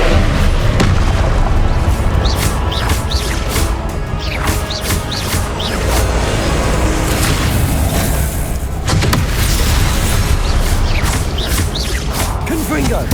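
Confringo blasting spell explosions in Hogwarts Legacy on PS5, a dense, continuous barrage of loud booms, crashes and whooshes filling the whole stretch with hardly a pause.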